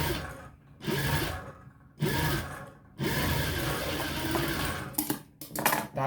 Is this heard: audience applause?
no